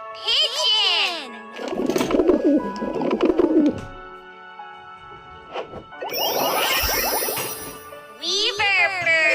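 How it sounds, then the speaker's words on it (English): Pigeons coo in soft, repeated low bursts, broken by gaps, with higher bird calls and chiming jingles before and after. "Pigeon!"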